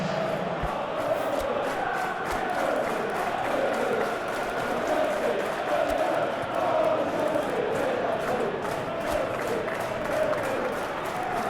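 Stadium crowd in a PES-style football video game, Chelsea master league match, roars continuously in a broad, even wash of cheering and murmur, with faint rhythmic chanting and no pauses.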